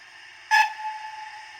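A Dapol O gauge Pannier Tank model locomotive gives one short, shrill whistle blast of about a tenth of a second from its onboard sound system, then a faint hiss lingers at close range with no talk.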